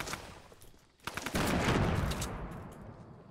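Rapid weapon fire crackles through a Fortnite match, with a short burst early, then a louder, dense volley of repeated shots that tails off near the end.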